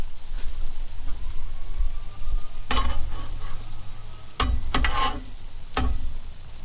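Lorne sausage and hash browns fry in a pan with a loud, steady sizzle, and a few sharp scrapes and clatters cut through as pieces are turned over.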